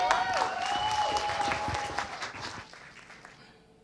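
A crowd claps with a shrill whistle rising above the applause, which gradually thins and fades away toward quiet.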